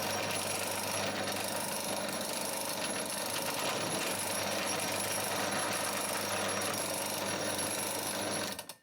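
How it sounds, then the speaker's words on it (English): A steady, loud mechanical whir and grind from a drill press boring a hole into an inert round runs without a break for about nine seconds, then cuts off abruptly. "So let's drill a hole."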